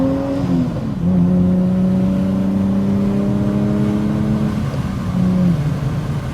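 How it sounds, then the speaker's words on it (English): A V6 Shelby Terlingua Mustang with a Vortex supercharger at about 6 pounds of boost and 375 horsepower revs up close by. Its engine climbs into a loud, steady, tonal drone with a supercharger whir, then eases slightly near the end. "That's the sound of a Vortex supercharger running about 6 pounds of boost"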